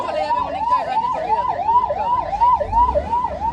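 An ambulance siren wails in steady repeating up-down sweeps in Singur, Hooghly, loud and continuous, with low traffic rumble underneath.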